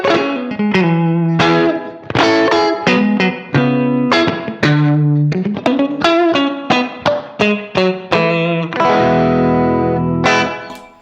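An electric guitar played through the blackface input of a Quilter Aviator Cub amp rings out in a loud, lively phrase of picked notes and chords with short gaps, ending on a sustained strummed chord, with no talking.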